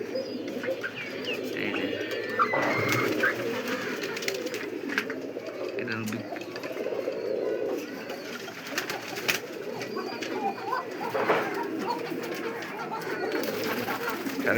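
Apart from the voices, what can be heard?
pigeons cooing in a crowded cage at a pigeon farm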